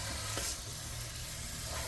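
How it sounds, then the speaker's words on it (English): Quiet, steady sizzle of sauce in a pan being stirred, a soft continuous hiss with faint scraping. "I'm gonna stir this around"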